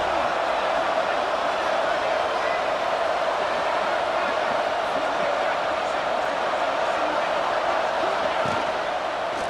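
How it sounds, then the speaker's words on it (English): A steady, dense roar of a stadium crowd in the EA Sports College Football 26 video game, a constant wash of cheering noise behind a red zone defensive stand, loud and unbroken throughout. "This crowd is trying to inspire this defense to make a big red zone stop."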